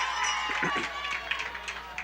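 Crowd of roughly 1,500 at a 1992 night high school football game in the Tri-Valley League, a diffuse stadium murmur with scattered claps and cheers under close commentary speech.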